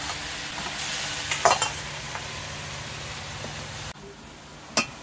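Fish heads and water lily stems fry and get stirred in a pan, a steady sizzle running throughout with a few louder scraping stirs near the middle, then the hiss drops back briefly before one more sharp stroke.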